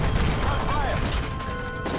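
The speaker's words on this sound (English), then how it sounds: "That's gunfire! Hijackers are taking the plane!" Gunfire in Call of Duty: Modern Warfare 3 during a plane hijacking scene, a dense, loud wash of shots and crashes filling the whole stretch along with game noise.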